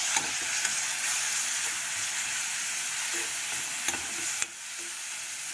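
Ground masala paste being stirred into egg curry in a pan, giving a steady close sizzling, scraping sound with no voices throughout.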